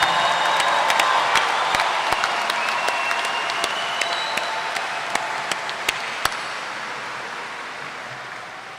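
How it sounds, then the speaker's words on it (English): Applause and scattered cheering rise from the audience at a 2018 Columbia Southern University commencement for associate degree graduates, with sharp individual claps and whoops standing out over steady clapping that slowly fades. "Let's have one more round of applause for our associate degree students."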